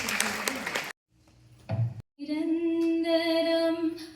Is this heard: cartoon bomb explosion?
no